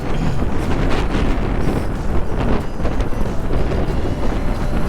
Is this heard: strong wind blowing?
yes